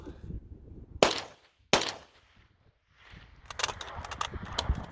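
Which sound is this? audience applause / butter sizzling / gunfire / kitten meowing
gunfire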